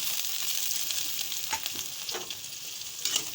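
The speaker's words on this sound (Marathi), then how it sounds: "याच्यामध्ये कांदे घालूया आणि लाल मिरची घालूया" Onions and red chillies fry in a hot kadhai with a steady, bright sizzle and hiss, broken by a few soft stirring scrapes and clinks, close up with no voices.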